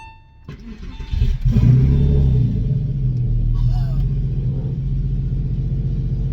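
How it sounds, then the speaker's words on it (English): A straight-piped Porsche 911 engine cranks briefly, catches, and settles into a loud, deep, rumbling cold idle, heard from close by inside the car. "All right, here we go, starting the car."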